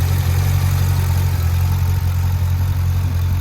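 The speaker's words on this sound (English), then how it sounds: "Beautiful engine." A Chevrolet C6 Corvette Z06 engine idles steadily with a deep, even rumble, loud and close, with no talking.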